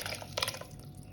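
Ground raw mango mixture thinned with water being poured into a pot of tempering, a short wet splashing and dripping pour, close and fairly quiet.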